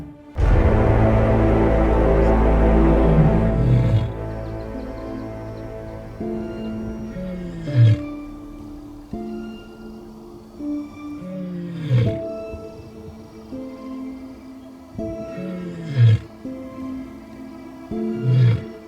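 Lions in the savanna roar near a safari vehicle: a loud, deep rumbling swell opens, then a run of heavy, booming roars comes in repeated bursts, close and powerful, with no talking.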